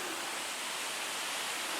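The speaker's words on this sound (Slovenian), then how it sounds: "Precej vode gre pod skalami, kot neka bazaltna kamenina je tole." Water pours over basalt rocks at a waterfall, a constant, even rush of broadband noise with no breaks, heard alone at moderate volume.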